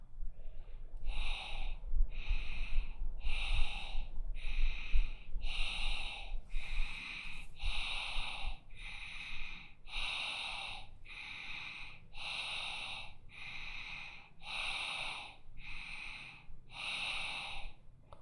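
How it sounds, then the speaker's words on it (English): Rhythmic yoga breathing through the nostrils, about fourteen forceful breaths in an even steady pattern, close and clear with no talk. "Inhale up, exhale down."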